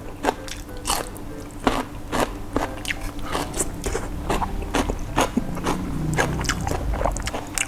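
Close, crunchy bites and chewing of braised pork leg eaten with chili and garlic, repeated at irregular intervals over a steady background hum.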